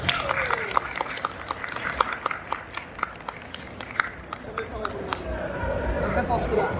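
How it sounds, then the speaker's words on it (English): An audience at a Comic Con stage talk breaks into applause welcoming a guest, dense clapping with sharp individual claps and crowd noise throughout, a voice speaking over it. "please welcome Yuji to the stage with a big applause"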